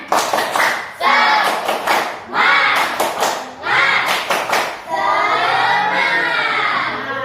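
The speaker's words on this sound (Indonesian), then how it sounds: "kita tepuk semangat" A classroom group claps a quick rhythmic cheer pattern, several bursts of sharp claps broken by children's voices, then sustained chanting.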